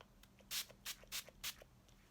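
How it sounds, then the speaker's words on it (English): Four quick bursts of hissing makeup setting spray, evenly spaced and close, with faint shuffling between them in a quiet room. "I'm going to go ahead and spray."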